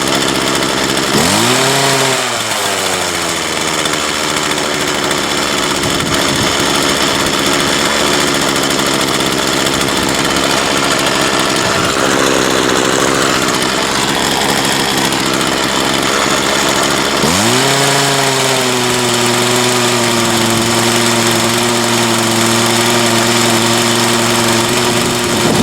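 A Craftsman 19-inch 25cc two-stroke gas hedge trimmer with a newly installed carburetor runs close and loud, revving up sharply twice into a buzzing whine and dropping back to a rattling idle in between.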